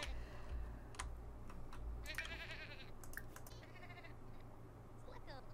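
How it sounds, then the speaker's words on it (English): Sheep bleating among goats on a ranch, several bleats scattered over a few seconds, mid-distance, with a steady low hum and clicking noises underneath. "We are surrounded by goat and sheep."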